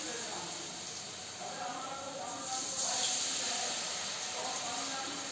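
Sabudana tikki patties fry in oil in a kadhai, producing a continuous soft hiss that swells slightly midway and stays fairly even, with no one speaking.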